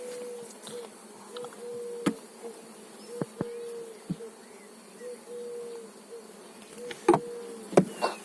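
Honeybees buzzing steadily around an open hive at an apiary, a close, continuous drone with individual bees passing near, plus occasional sharp clicks and knocks from handling hive frames.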